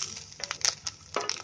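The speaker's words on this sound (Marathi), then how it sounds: "ते कॉर्न आहेत ना फुटतात" Corn kernels fry over a high gas flame in a wok, giving a few sharp, close pops and crackles over a faint sizzle in a brief quiet burst.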